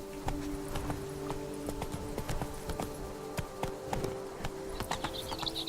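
Roach the horse from The Witcher 3: Blood and Wine clip-clops along at a steady walking pace, hooves striking close and clear in an irregular rhythm over a low ambient bed.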